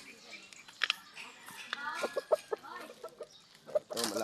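Backyard chickens cluck softly in short, scattered bursts at close range, with occasional louder squawks, while someone talks over them.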